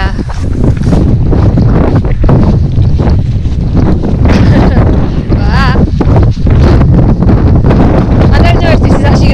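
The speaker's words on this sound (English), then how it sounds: "The wind is fucking brutal." Strong wind roars and buffets the microphone continuously on a coastal walk, loud and close, with people talking underneath the gusts.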